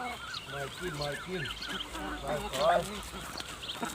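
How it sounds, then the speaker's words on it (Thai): Ducks call close by in rural Thailand, giving a rapid series of nasal, honking quacks that overlap and continue through the few seconds, fairly faint overall. "นี่เป็ดหน่อย"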